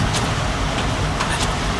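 A 660cc kei camper weighing 1.3 tons strains up a mountain road at about 1300 m elevation. Its engine gives a constant, loud, close droning roar mixed with road noise.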